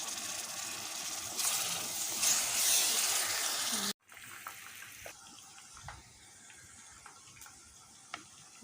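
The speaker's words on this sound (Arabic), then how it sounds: "احط الرز ده يتشوح معاهم" Rice sizzles as it is sautéed with spices in a hot pan: a loud, steady hiss for a few seconds, then a quieter crackle with scattered light ticks of stirring.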